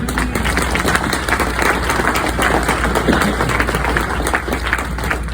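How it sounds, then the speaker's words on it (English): Church congregation clapping steadily and densely for several seconds, a continuous wash of many hands in a large room with no pause, fairly loud and close. "If you know it, you ought to clap your hands about it."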